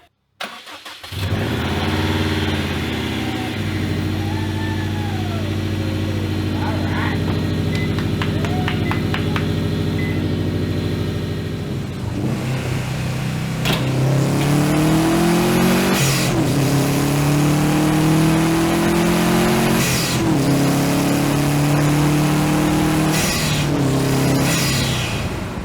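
A rebuilt Subaru STI engine cranks and catches, settles into a steady, loud idle, then revs repeatedly in strong rising and falling bursts, with no talking.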